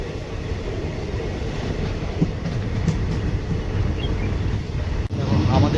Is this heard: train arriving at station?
yes